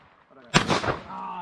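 A single loud, close shotgun blast during a dove hunt in Chile cracks sharply and rolls into a short echoing decay, with faint background sound before and a lingering tail after.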